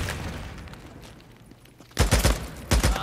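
A homemade bomb is thrown and explodes in Days Gone, followed by a loud cluster of rapid, booming bursts, like gunfire, coming in two close groups after a quieter stretch.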